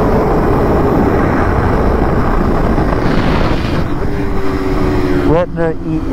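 A BMW Motorrad motorcycle carries two riders at speed around the COTA track, its engine a loud continuous roar under heavy wind buffeting, with a rising and falling gear-shift sweep near the end.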